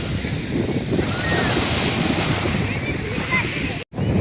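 Sea waves washing onto a busy beach in Turkey, a constant loud surf roar mixed with wind buffeting the microphone, with a brief dropout near the end.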